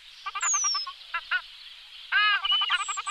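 A pair of ruddy shelducks feeding in shallow water give repeated nasal, goose-like honking calls in short bursts, fairly close and alone.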